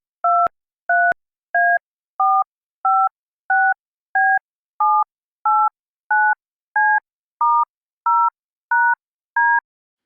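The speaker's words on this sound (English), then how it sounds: "Here you hear a sequence of 16 characters in DTMF." A sequence of sixteen evenly spaced two-tone telephone keypad beeps, clean and loud, each short with a brief gap between.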